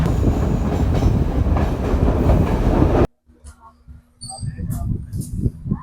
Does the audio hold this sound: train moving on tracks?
yes